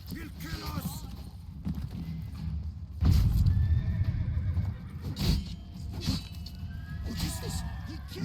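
Horses in The Witcher 3 video game whinny and snort while hooves clip-clop close by, with a few loud heavy thuds and voices speaking over parts of it.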